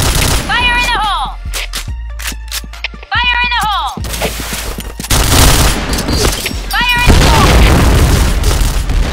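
In the Point Blank shooter game on the Midtown map, a loud grenade explosion booms amid rapid gunfire bursts and clattering shots, with game effects and radio voices mixed in.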